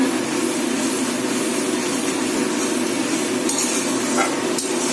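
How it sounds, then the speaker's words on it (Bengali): Poppy seed paste being lightly stirred in a pan, a continuous low sizzle with faint spoon scrapes and a sharp clink near the end, no talk. "একটু হালকা নেড়ে চেড়ে নিলেই হবে"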